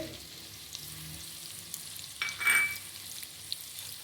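Ginger garlic paste fries in a pan for potato karahi while a spoon stirs it, giving a quiet constant sizzle with one louder scraping stir midway, heard close without talk.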